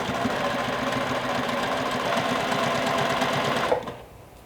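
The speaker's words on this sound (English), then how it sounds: "You're going to pivot and stitch 12 inches down" Sewing machine stitching steadily through both layers of a thick minky blanket, a close, continuous rapid needle chatter that stops abruptly near the end.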